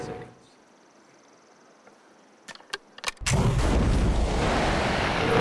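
A musket fires with one sharp, loud blast after a quiet stretch. A few faint clicks come just before it, and a dense, roaring boom carries on after the shot. No voices are heard.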